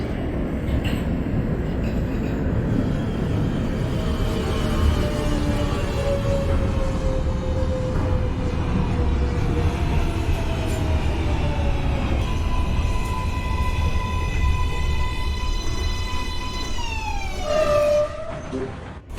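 A simulated NYC Subway R142A number 4 train in OpenBVE rumbles along the track as its propulsion whine slowly shifts pitch, then layered tones glide downward near the end as the train slows, loud and close throughout with no talk.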